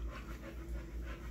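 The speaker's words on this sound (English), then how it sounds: "You can probably hear my dog in the background" A dog pants quietly in the background, a soft rapid rhythm of breaths repeating faintly and evenly with no voices over it.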